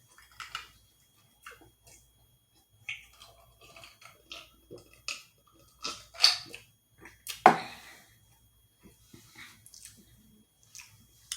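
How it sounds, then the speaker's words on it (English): Chewing and biting on food during a mukbang meal of store-bought dishes, close, wet, squishy mouth sounds in irregular bursts with quiet pauses between them, no talking. "Give me a minute while I chew this up."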